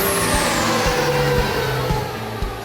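A diesel truck engine running with a 476 turbo on a 12mm pump setup: a loud, close, continuous engine roar with a steady low rumble and a high turbo whine drifting downward.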